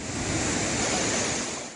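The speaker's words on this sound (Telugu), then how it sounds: "హైదరాబాద్ లో జలపాతం ఎప్పుడైనా చూసారా?" A waterfall in Hyderabad pours with a steady, close rushing roar of water that holds evenly throughout, with no voices.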